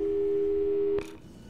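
Steady electronic phone tone from the Portal 2 video game, a single sustained hum held for about a second before cutting off with a brief click and faint noise, loud and alone.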